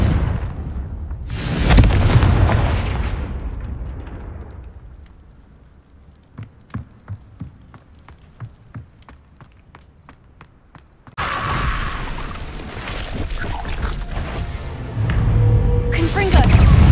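Confringo explosion spell cast in Hogwarts Legacy, with a loud booming blast early on, then a quieter stretch of rhythmic ticks and thumps before another heavy burst of fiery noise near the end.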